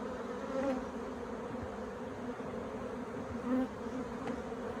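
A steady, dense hum of bees buzzing from an opened queenless beehive, with an occasional louder bee passing close to the ear.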